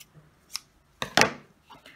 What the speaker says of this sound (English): I use really sharp scissors.